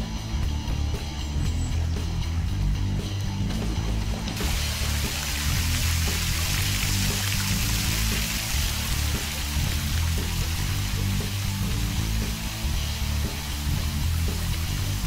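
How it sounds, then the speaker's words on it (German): A waterfall under a bridge, a steady broadband rushing roar of falling water that grows brighter and fuller after a few seconds and continues unbroken. "das ist der berühmt-berüchtigte Wasserfall, an dem ich meinen Sturz hingelegt habe"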